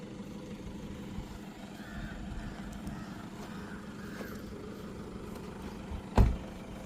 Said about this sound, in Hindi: मैं कार बैक करने जा रहा हूँ।